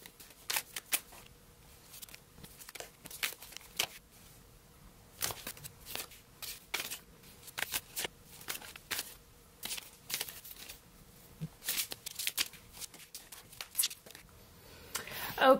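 Tarot-style reading cards from a mindfulness deck are flicked and set down one after another in quick, crisp snaps and slides, close up, with short pauses between bursts.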